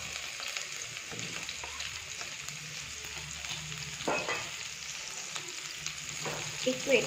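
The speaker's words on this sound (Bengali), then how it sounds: "ফ্রাই করে নেব আর গ্যাসের স্টিমটাকে লো করে রাখতে হবে" Chopped garlic and chili fry in oil in a pan on a low gas flame, a steady close sizzle with occasional stirring scrapes and a brief spoken word.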